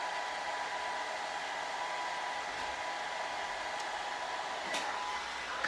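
A hair dryer runs steadily on medium heat and medium speed during a curly-hair styling session, giving a constant close airy whoosh with no break and no talking over it.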